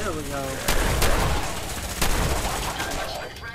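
Gunfire in Fallout 4, several loud shots cracking over a dense roar of combat noise, close and continuous, with a few distinct bangs standing out.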